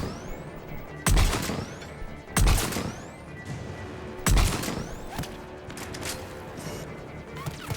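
Heavy gunshots in the shooter game Mass Effect 3, Viper mode, with three loud, widely spaced blasts over a busy combat background and ringing effects, with no talk.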